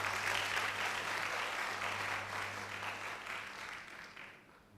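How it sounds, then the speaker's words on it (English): Applause for the Dean of the Faculty of Nursing at a nursing induction ceremony, broad crowd clapping with a steady electrical hum beneath, holding strong then gradually tapering off near the end. "That applause is louder than the previous ones."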